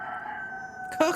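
A rooster in the game DayZ, set in Chernarus, sustains the tail of a loud crow, a held strained tone ending in a brief harsher burst.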